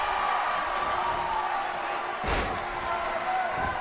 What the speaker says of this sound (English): Slams down Rocky Kernodle.